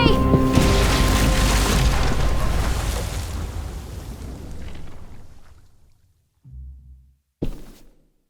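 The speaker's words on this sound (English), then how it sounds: "Shit, the bomb!" A bomb goes off in The Walking Dead video game, a loud, deep booming blast that rolls and fades over several seconds, followed by a couple of short low thuds.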